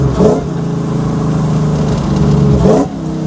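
A supercharged V8 drift truck engine revs hard through a newly fabricated exhaust, with two sharp throttle blips bracketing a sustained, rumbling high idle, loud and close with no talk over it.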